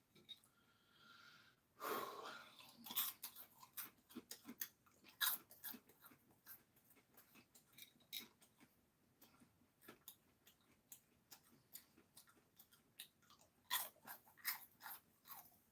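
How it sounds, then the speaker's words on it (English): Close, wet chewing and crunching of a spicy Devil's Heat pepper, irregular bites and mastication continuing throughout, with occasional breaths and snorts. "A lot of chewing for me."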